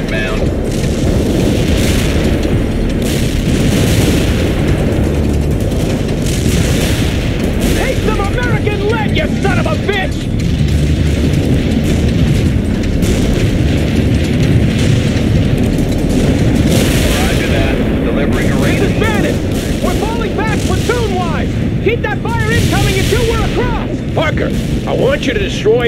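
Deep booms and rumbling blasts from a mortar strike roll continuously through a war video game, dense and loud, with crackling debris layered over the low thunder.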